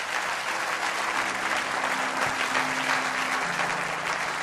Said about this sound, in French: Acclame, acclame, acclame, acclame